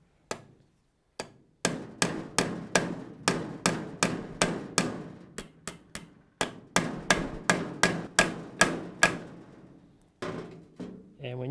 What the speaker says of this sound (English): if you haven't hammered a cut nail before, it's a bit of a challenge